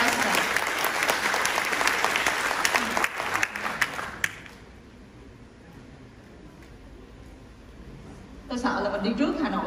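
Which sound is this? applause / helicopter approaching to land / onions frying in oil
applause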